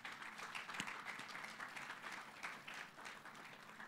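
A conference panel audience claps continuously at a moderate distance, a dense and even patter of applause with no voices on top.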